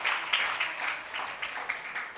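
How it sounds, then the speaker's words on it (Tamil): A church congregation applauding together, steady moderate clapping that runs throughout without a break, heard from a little distance in a reverberant hall, with no voice over it. "நல்ல அப்பாவுக்கு ஒரு கைத்தட்டு கொடுத்துருங்க பார்க்கலாம்"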